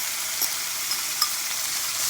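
Capsicum, onion, carrots, ginger and garlic stir-frying in a pan give a steady, bright sizzle with a few sharp pops and crackles over two seconds, no talk.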